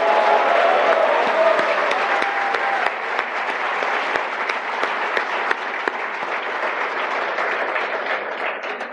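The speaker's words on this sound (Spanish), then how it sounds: "aplaudamos también a Adrián Rabier" An audience at a political speech breaks into sustained applause, a thick, close roar of many hands clapping that stays strong for the whole stretch and eases only slightly toward the end, with faint cheering mixed in.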